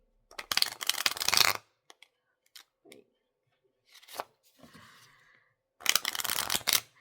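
Playing cards being riffle shuffled and bridged, heard as a loud burst of rapid flicking and riffling, a few soft taps and rustles, then a second riffling burst near the end.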